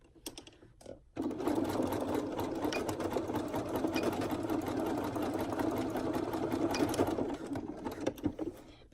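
A sewing machine runs a zigzag stitch on reversible scoop bikini fabric, starting abruptly after a brief pause and then whirring steadily and evenly for several seconds, close and fairly loud, before slowing and stopping.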